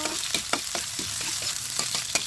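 Onions sauté in hot oil for pinakbet, a steady close sizzle broken by several quick scraping stirs of a spatula, with no talk.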